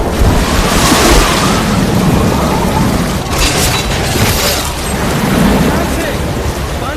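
Loud, continuous roaring rush of the swollen Sirsa river in flood, a dense churning wash of water with booming surges and wind-like noise filling the whole stretch.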